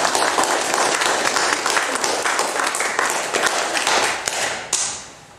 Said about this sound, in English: welcome the new King of Hilperton with a clap